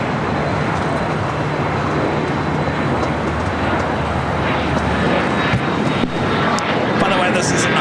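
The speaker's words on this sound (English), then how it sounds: "this is American Airlines flight 2455, a flight coming in from Boston on this A321" An American Airlines Airbus A321 arriving from Boston lands at LAX with a loud, continuous broadband jet roar that holds steady throughout, while a voice talks over it.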